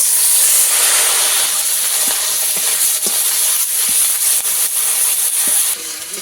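Cumin seeds sizzle in hot frying oil, freshly topped up after frying eggs for a pomfret curry: a loud, steady hiss with scattered small crackles and pops throughout, with no talking.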